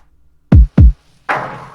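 Lo-fi pop drum pattern made in FL Studio: two deep, distorted kick thumps in quick succession, then a brighter noisy percussion hit that decays, loud and dry with no voices.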